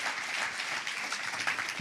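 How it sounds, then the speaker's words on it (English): Applause from an audience at an evening fireside chat, a steady wash of many hands clapping at moderate volume throughout, slightly distant in the room. "Can we all give him a big round of applause?"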